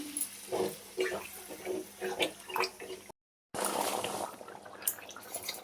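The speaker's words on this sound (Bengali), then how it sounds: "মশলাটা কষা হয়ে গেছে, এবার বেগুন আর আলুটা তুলে দেব, দিয়ে ভালো করে নেড়ে চেড়ে জল ঢেলে দেবো।" Water poured into a pan of fried spice paste, with eggplant and potato, while cooking a Bengali bata fish curry, heard as sloshing, bubbling liquid after a short break.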